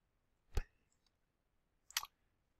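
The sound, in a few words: computer mouse clicking links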